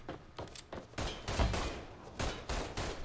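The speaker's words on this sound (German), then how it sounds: "Hey, wir schießen hier die ganze Zeit." Gunfire in the Mafia 3 video game: several sharp, close shots and short bursts in an uneven rhythm, loud against a low background rumble.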